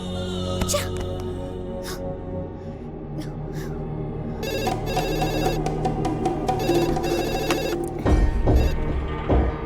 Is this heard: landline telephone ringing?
yes